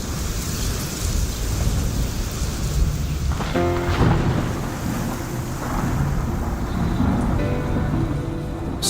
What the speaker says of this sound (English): Storms, lightning, and thunder.